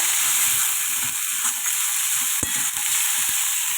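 Curry fries in oil in a pan with a continuous close sizzle and hiss, broken by a few sharp clicks and scrapes of stirring.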